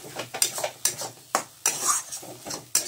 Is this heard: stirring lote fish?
yes